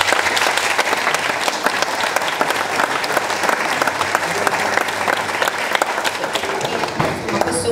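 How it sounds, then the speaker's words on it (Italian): Loud, sustained applause from a crowd at an Italian Republic Day celebration with the youth municipal council and their mayor present, a dense steady clatter of many hands lasting several seconds. "un applauso a tutti"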